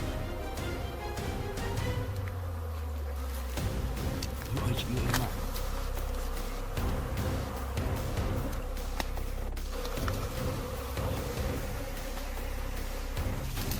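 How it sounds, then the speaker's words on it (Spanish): Dense, steady buzzing of many bees swarming around a wild hive as smoke drives them off, a continuous close drone filling the whole stretch without pause. "utilizan el humo para alejar a las abejas antes de retirar cuidadosamente varios trozos de panal dorado"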